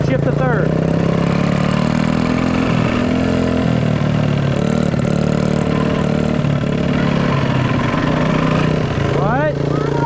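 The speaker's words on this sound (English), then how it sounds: "we'll rev out second and shift to third" A dirt bike engine revs steadily in second gear, then shifts up to third, its loud mid-pitched drone rising and dropping continuously throughout.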